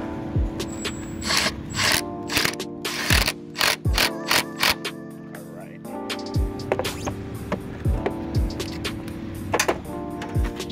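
A ratchet wrench with an extension clicks in repeated rapid bursts while a 12 mm bolt is tightened on the battery hold-down of a 2014 Kia Rio, close up, with short pauses between strokes.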